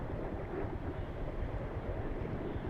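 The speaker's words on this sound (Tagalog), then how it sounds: "Malakas ang alon niya, gawa ng may bagyo kasi." Storm-driven sea waves on a coastline in Batangas, heard as a steady low rumbling wash of surf blended with wind buffeting the microphone, continuous and without speech.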